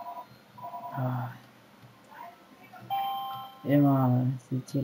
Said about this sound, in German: Da geht mein Telefon.